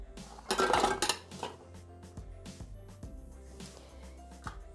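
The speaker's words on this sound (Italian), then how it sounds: "Mettere nel boccale i biscotti," Biscuits clatter into a Thermomix (Bimby) plastic jug in a brief burst, followed by a few lighter knocks and rattles, with a faint hum underneath.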